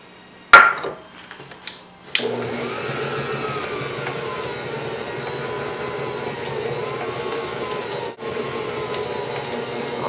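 A stand mixer runs steadily with dough hooks kneading homemade bread dough, a continuous motor whir after a few knocks and clatters at the start, close and fairly loud with no talk.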